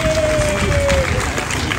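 A crowd applauds at an outdoor rally at the Esplanade des Invalides, a continuous wash of clapping and crowd noise with a faint tone running across it.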